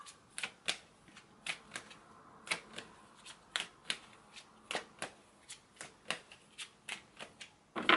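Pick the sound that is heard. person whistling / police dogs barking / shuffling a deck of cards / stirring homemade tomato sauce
shuffling a deck of cards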